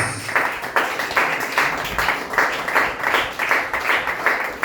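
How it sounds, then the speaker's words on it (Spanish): A church congregation claps in rhythm, steady rapid applause that pulses evenly throughout, loud and full, with faint voices mixed in. "Denle aplausos al Señor."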